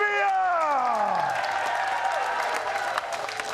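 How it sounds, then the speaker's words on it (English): An audience applauds and cheers steadily, with a rising crowd noise and a brief whistle-like tone at the start, as Princess Olivia arrives at Move in Shepparton during a live broadcast. "please be upstanding and a round of applause because royalty is amongst us"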